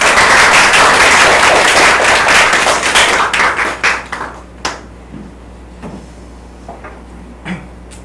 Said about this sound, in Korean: 여러분들 박수와 함께